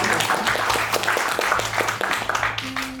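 Audience applause for a speaker at the opening of the 2025 French Cinema Festival in Indonesia, a moderate, short burst of clapping with a faint tonal hum underneath.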